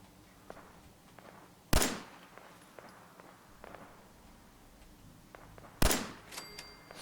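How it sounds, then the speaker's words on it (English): Two sharp 10mm pistol shots ring out in the Fallout 4 video game, spaced a few seconds apart, each a loud crack with a short decaying tail over quiet ambient game noise. "Sniping with my 10mm pistol."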